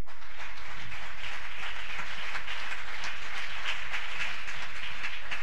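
A church congregation applauding and cheering the Lord: a dense, continuous roar of clapping and cheering voices, loud and steady throughout.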